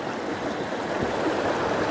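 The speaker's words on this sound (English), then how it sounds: "causing all kinds of little waterfalls" A stream in a riverside park pours down over small waterfalls, a steady, close rushing and splashing wash of water with no voices.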